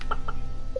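Chickens cluck on a farm in the video game Stardew Valley, giving a few short, faint clucks spaced apart over a steady bed of game background sound.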